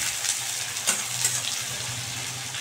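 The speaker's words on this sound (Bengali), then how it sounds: "পেঁয়াজগুলোকে দিয়ে আমি একটু ভেজে নিচ্ছি লাল লাল করে।" Onions frying in hot oil for a Bengali chicken and potato curry give a close, steady sizzle, with a few sharp spatula clicks and scrapes from stirring.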